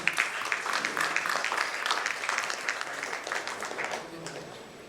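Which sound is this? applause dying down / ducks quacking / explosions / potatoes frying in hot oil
applause dying down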